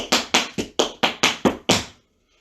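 Eight crisp, evenly spaced tap-shoe strikes in quick succession, a beginner's tap paradiddle sequence played close and clear with no talking, ending in silence.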